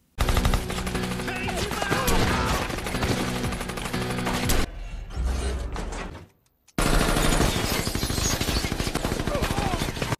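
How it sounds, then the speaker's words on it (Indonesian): Rapid bursts of machine-gun fire and gunshots in a loud, chaotic action-film shootout, with a brief lull before the heavy firing resumes. "Lalu terjadilah baku tembak-tembakan yang tak terhindarkan."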